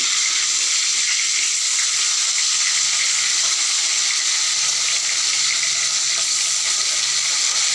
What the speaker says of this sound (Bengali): মাছগুলোকে আমি হালকা লাল করে ভেজে নেব মাছের একটা পিঠ ভাজা হয়ে গেছে অন্য পিঠটা উল্টে দেবো